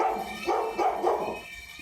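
A dog barks indoors, a few short muffled barks and yips in a quick run at moderate volume, then a quieter pause.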